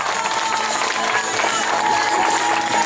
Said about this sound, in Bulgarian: А сега вашите аплодисменти за победителят в клас M-Max, дами и господа, Илия Царски!